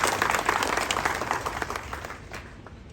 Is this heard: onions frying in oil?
no